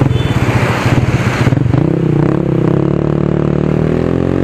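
A modified 2015 Yamaha X Ride automatic scooter engine runs loud and close, with a throbbing idle that shifts into a steadier, higher drone.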